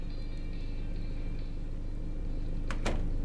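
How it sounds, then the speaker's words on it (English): Over a steady low engine-like hum in a video game, a brief door sound near the end, a quick clack and slide close by. "I could have sworn I heard the door"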